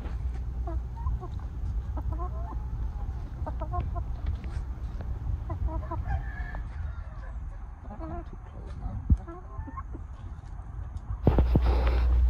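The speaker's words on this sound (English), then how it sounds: "Here in room 1, we have a dark blue rooster with some lighter colored hens." Dark blue rooster and lighter colored hens in a breeding pen, clucking in short scattered bursts through the whole stretch over steady low farm background hum, with a louder thump near the end.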